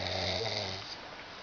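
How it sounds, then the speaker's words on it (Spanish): A person snoring, one long rough drawn-out breath close by, loud at first and fading toward the end, with no talk over it. "Ya el ronquito."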